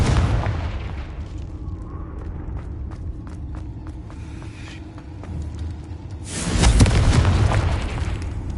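A Confringo spell explosion in a video game: a loud, booming blast bursts out after a stretch of low rumble and scattered small clicks, then a rough tail fades.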